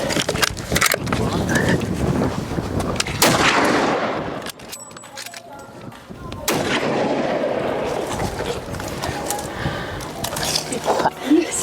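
Rifle shots fired at a buffalo during an African hunt ring out as loud, sharp cracks, one heavy blast followed by another after a pause, with people talking excitedly and close by throughout.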